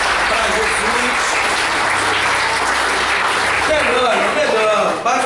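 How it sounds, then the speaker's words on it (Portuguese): A church congregation claps enthusiastically during a sermon, a dense continuous roar of hands, with voices rising over the clapping toward the end. "Pode dar uma salva de palmas bem gostosa para Jesus"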